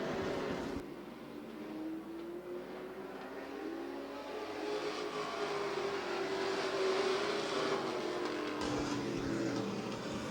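Stock car racing engines at Twin State Speedway, a short track in Claremont, New Hampshire, on May 28, 2010. Several cars roar past in a sustained blur, pitch sliding as they pass, with the crowd and track noise filling the background.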